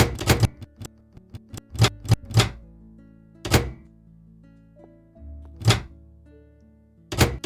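Several sharp thunks and clunks from a Roblox game door arrive in uneven bursts, some in quick pairs, separated by quiet stretches with faint electronic tones, like doors banging shut.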